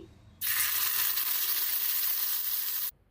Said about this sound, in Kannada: ಈಗ ಗ್ಯಾಸ್ ಸ್ಟವ್ ಮೇಲೆ ಈ ರೀತಿ ಒಂದು ಚಿಕ್ಕ ಪ್ಯಾನ್ ಬಿಸಿಗಿಟ್ಕೊಂಡು ಅರ್ಧ ಟೀ ಸ್ಪೂನ್ ಎಣ್ಣೆ ಸೇರಿಸ್ಕೊಳ್ಳಿ.